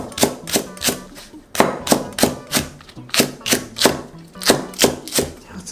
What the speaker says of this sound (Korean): 양파 4분의 1 정도 썰게요